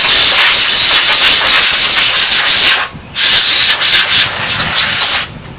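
Makeshift compressor blasting air to clean dust from a vintage Hallicrafters SX-100 shortwave receiver, a loud, close, rushing hiss in sustained bursts with a short break partway through.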